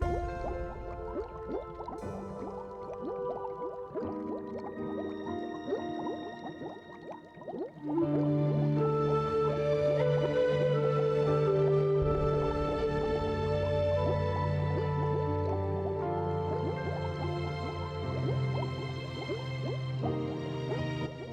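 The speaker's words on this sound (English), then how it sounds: "So I'm getting lost in the water sounds." Video game water effects play as bubbling, dripping and filling sounds with tonal, musical layers that swell louder partway through and then hold steady.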